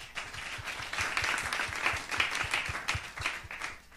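Dense audience applause at a 2019 neighbourhood podium event, many hands clapping steadily and fairly close for the whole stretch, with no voices on top.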